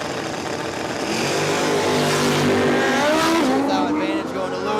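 Drag racing vehicles, including a motorcycle, launch down the strip at a state championship dragway, a loud, sustained engine roar rising in pitch, with an announcer talking over it.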